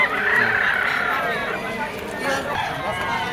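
A stag gamefowl rooster crows and clucks amid a busy poultry sale, with men chatting in the background.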